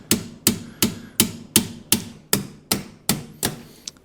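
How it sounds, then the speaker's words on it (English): Hammer blows strike a nut threaded onto an exhaust manifold stud of a turbo Ford Fairmont, ten sharp metallic clanks in a steady rhythm about a third of a second apart, close and loud, the last one lighter. "you're probably best off putting a nut on the top of this and just hitting the nut"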